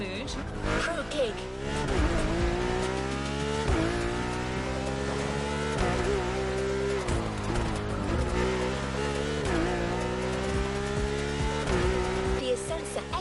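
A Lamborghini Essenza races around the Hanama racetrack in The Crew Motorfest, its engine wailing through repeated rising revs and sharp gear changes, with tires squealing in the corners. Loud and continuous, with speech over it.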